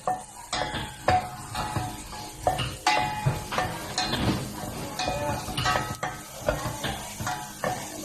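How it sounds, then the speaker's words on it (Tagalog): A wooden or metal spoon stirs browning garlic and onion in a cooking pot or wok, giving a close series of scraping clacks and soft rattles over a faint sizzle. "Haluin lang natin siya para hindi dumitin yung sibuyas at saka yung garlic sa caldero o kawali."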